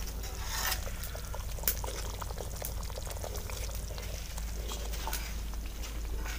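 Sugar syrup pours into semolina halwa in a pan, giving a steady bubbling, sizzling wash with scattered light clicks and a brief sharp knock near the middle.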